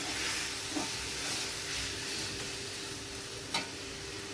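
Spices fry with a steady hiss and sizzle in a pan for a tomato fish curry of amudi fish, with a couple of soft stirring scrapes, close and alone with no voices.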